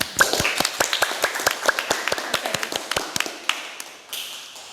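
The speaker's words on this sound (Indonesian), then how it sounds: "Tepuk tangan buat kalian semua." Podcast hosts clapping in a small room: a few people's hands give a rapid series of sharp, distinct close claps that thin out and fade toward the end, no talk over them.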